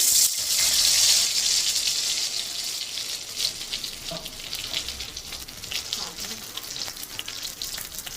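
Tomato drops into a frying pan for pomfret curry with a ground mustard and poppy seed paste, setting off a loud sizzle that settles into softer crackling and stirring.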